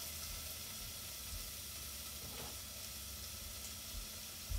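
Leftover beef jus sizzling and hissing in a hot pot for a beef vegetable soup, a steady close frying crackle with a faint clink near the end.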